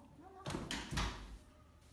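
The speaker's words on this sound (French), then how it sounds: "tu vas aller fermer la porte, s'il te plaît." A classroom door swings closed with a couple of soft thumps and a latch click, heard a little distant amid a room of children and faint voices.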